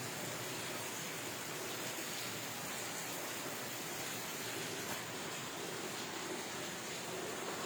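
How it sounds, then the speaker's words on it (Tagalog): Steady rain falls in the Philippines, a soft, even hiss of broadband noise with no distinct drops or pauses, fairly faint and continuous throughout without any voices. "maulan po dito sa amin ngayon"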